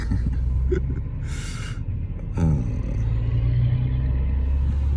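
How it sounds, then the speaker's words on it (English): Road traffic passes nearby with a low continuous engine rumble. A vehicle swells louder around the middle, and brief breathy hisses show up early on. No one speaks. "Paying attention to the traffic,"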